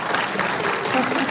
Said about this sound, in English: So how about a round of applause for our folks here?